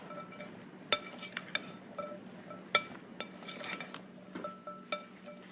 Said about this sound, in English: we're going to add our salt and pepper, and then I'm going to stir it up